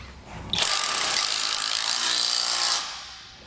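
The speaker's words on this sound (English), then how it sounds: "And now we'll tighten it down all the way." A power tool whirs for about two seconds while driving a lock nut onto a bolt on a Malone MicroSport boat trailer coupler, loud and close, stopping abruptly.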